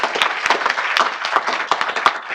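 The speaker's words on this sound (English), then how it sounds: "Let's give him a big round of applause." People at a city council meeting give a coach a round of applause, producing brief, steady clapping from a nearby crowd that stays fairly loud throughout.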